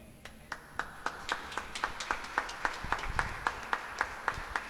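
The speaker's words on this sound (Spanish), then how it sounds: "Si le va a dar el aplauso, como dice un amigo mío, déselo más fuerte al Señor" Applause during an evangelical church testimony service: a small group claps in a steady, even rhythm of about twenty distinct claps, faint and somewhat distant, with no voices over it.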